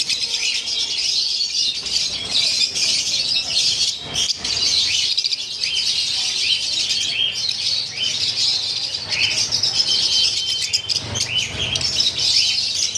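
A flock of Lutino Fischer's lovebirds chirps continuously, a dense, nearby chatter of overlapping high tweets and squawks with no pauses.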